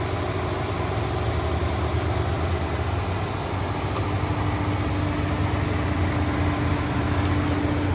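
A 2011 Chrysler Town and Country minivan's 3.6 liter V6 idling under the open hood, a steady even low hum with constant rumble and no change in pace, heard alone without talk.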